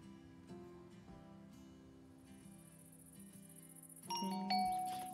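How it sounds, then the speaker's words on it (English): A two-tone electronic doorbell chime in Minecraft rings near the end, bright and clear over a soft, steady game-like background hum. "Ding dong, someone's here."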